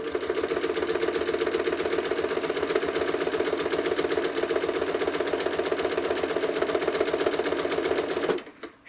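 A sewing machine stitches quilted feathers on a quilt, running at a steady, fast, continuous mechanical rattle, loud and close, then stopping abruptly near the end.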